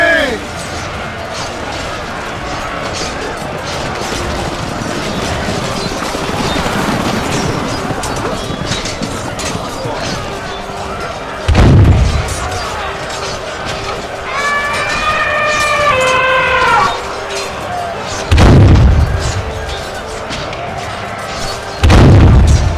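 Battle sounds in the style of a staged audio drama with Mughal cannons, swords and arrows: a dense clamour of clashing and shouting, broken by three deep booming cannon blasts spaced several seconds apart.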